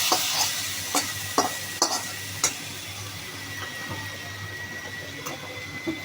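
Meat pickle with dried red chillies being stirred in a pan with the stove flame off, steady low sizzling under a handful of sharp spatula scrapes and taps, close by with no talk.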